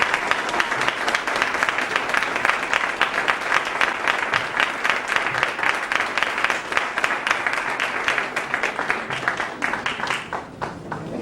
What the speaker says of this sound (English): Bring him on with a big round of applause, Brother Michael Muhammad.